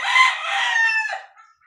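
A 4-month-old SBR cross High Action gamefowl rooster gives a single close crow, a raspy, strained call lasting just over a second before cutting off into silence.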